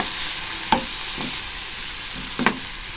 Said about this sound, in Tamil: கொஞ்சமாக அது ஃப்ரை பண்ணால் போதும்.